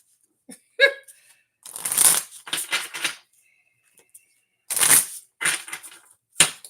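A deck of oracle cards is shuffled by hand, giving several bursts of crisp riffling and flapping separated by short pauses, close and fairly loud, with a few small taps and clicks between.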